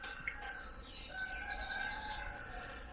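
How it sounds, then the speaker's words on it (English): Small birds chirp and tweet in scattered short calls from bushes in Kampot, Cambodia, fairly faint against a steady outdoor hum, with no voices. "birds in the bushes."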